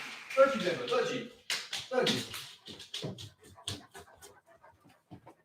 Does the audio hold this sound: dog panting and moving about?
yes